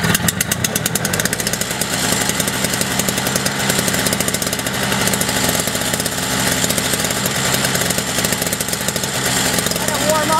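A Toro Power Clear 210E snowblower engine starts cold and runs, a loud, close, buzzing two-stroke drone with a fast steady pulse that carries on without a break, with a voice partly audible under it.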